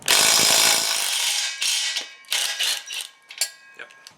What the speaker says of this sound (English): So let me go get a 5/8 wrench.